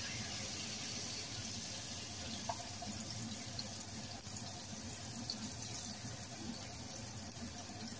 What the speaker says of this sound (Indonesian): setelah berbau harum kita tuangkan airnya 1 liter